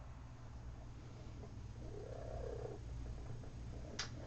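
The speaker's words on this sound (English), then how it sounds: "And one good purr." A house cat, a pet kept as a sewing companion, gives a single short, soft purr close by over a low steady background hum, with a faint click at the end.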